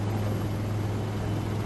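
Indian Army helicopters hover over a parade ground during an Army Day display, producing a steady, droning rotor and engine hum with a constant low tone and no break.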